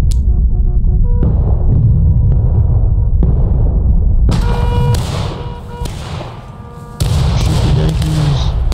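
Booming cannon blasts and sharp musket shots ring out in a dense, continuous barrage in a Civil War video game battle, loud and close, with a brief lull before the firing resumes.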